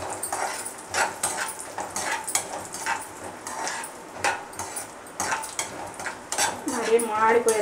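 Almonds and cashews are fried and stirred in a pan for sweet bread halva, with a utensil scraping and clinking against the metal in irregular bursts and a soft sizzle underneath.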